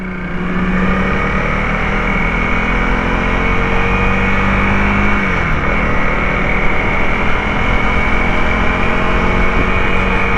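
A Honda CRF 300L motorcycle is ridden along, giving a loud, steady engine drone with wind noise throughout; the pitch drops briefly about halfway, then holds even again.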